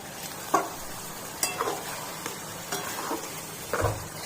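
Coriander paste and other rice ingredients being stirred and mixed in a frying pan, with a faint steady sizzle broken by several distinct scraping strokes of a utensil against the pan.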